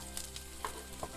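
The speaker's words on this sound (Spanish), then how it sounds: "Y ahora vamos a echar nuestra cebolla, ¿de acuerdo?" Onion tipped into garlic already sizzling in a frying pan, giving a steady low sizzle with a few soft crackles and splashes, with no voices.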